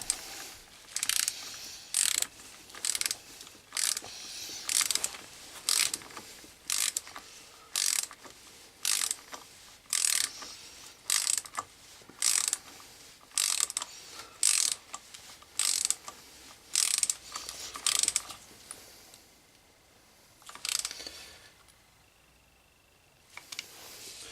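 A ratchet wrench tightens bolts on the clutch of a BMW K1200 GT motorcycle in a workshop, with about twenty crisp, close clicking bursts in a steady rhythm that slow and stop near the end.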